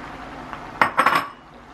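Spatula scraping and clinking against a pan while chow mein noodles are mixed, a short burst of several quick metallic scrapes close by, with no talking.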